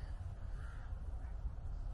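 A raven caws at the Hill of Tara in Ireland, one or two hoarse calls rising above a steady low rumble of wind and outdoor noise, a little distant and fairly faint, with no speech.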